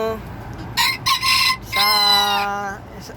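A bantam chicken gives a couple of short, loud clucks and then one clear, close crow, with faint rustling underneath.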